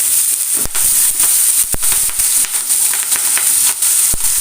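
Chopped ginger, garlic and green chillies fry in hot oil in a pan, giving a loud, continuous close sizzle with a bright hiss and occasional sharp crackles and pops.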